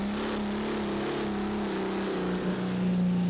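A pulling tractor's engine drones and revs hard under load during a tractor pulling final, a strong, sustained roar with a steady tone that wavers slightly toward the end.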